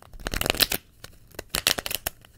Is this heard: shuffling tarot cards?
yes